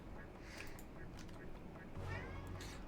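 A cat meows a couple of times over a busy Airport X-Ray Simulator game soundscape, with a voice talking throughout.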